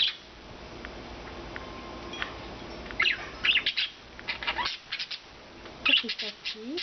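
Pet budgies chirp and squawk in quick, bright bursts close by, with scattered tweets early on and a denser flurry of chattering calls in the second half.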